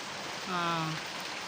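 Heavy rain pours down near a house in Hyderabad as a steady, close broadband hiss of pattering drops. A brief tonal sound rises midway through the downpour.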